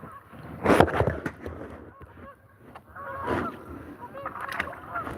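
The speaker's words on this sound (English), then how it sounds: "You hear the geese?" Geese honk in a loose cluster outdoors on Lake Winnisquam, with a louder burst of calls near the start and more scattered honks later, over faint background noise.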